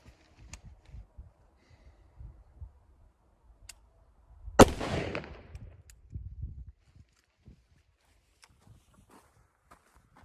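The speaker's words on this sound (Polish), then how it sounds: "Odejdę teraz na 7 metrów i oddam jeden strzał, celując w sam środek kółka." One sharp, loud shot cracks from a carbine fitted with an Aimpoint T-1 red-dot sight, fired at a target about seven metres away, set between faint handling noises and footsteps.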